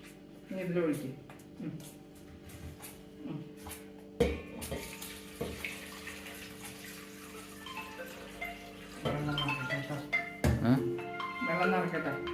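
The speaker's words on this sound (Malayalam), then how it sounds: "വെള്ളം നിറക്കട്ടെ" Tap water running into a vessel in a home kitchen while rice is washed by hand, with a steady gush that swells louder toward the end, broken by clinks and someone talking throughout.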